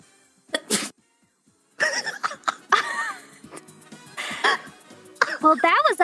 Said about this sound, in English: Was that a real sneeze, though?